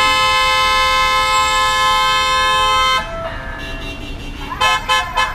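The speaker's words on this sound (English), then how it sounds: "Somebody's gonna honk at the other one for absolutely no reason." A taxi horn on a city street in Hangzhou, China, blares in one long, loud, steady honk for about three seconds, then fades into street noise with a few short toots.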